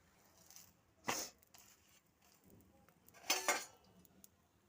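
Utensils clink and scrape against a pan while cooking aloo paratha, two distinct louder metallic clatters standing out over quiet kitchen background, with no speech.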